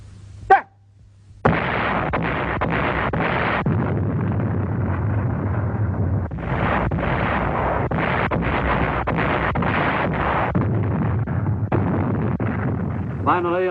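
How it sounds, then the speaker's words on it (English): Japanese artillery bombardment of the Corregidor island fortress in 1942, a loud continuous barrage of heavy booming blasts and bursts in rapid succession, rumbling on with brief pauses. "For almost a month, the Japanese bombarded the island fortress with every weapon at their command."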